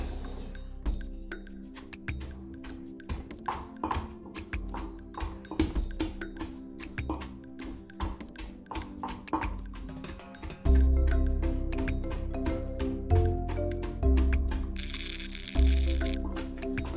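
Shredded cabbage is pounded in a bowl for sauerkraut, giving a rapid series of wet, squishy thuds and occasional clinks that grow heavier and more muffled toward the end, with no talking.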